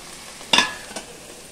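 Stirring in a pan where garlic and ginger fry in a little oil before mutton goes in, giving a quiet sizzle with a sharp scrape and a softer second one.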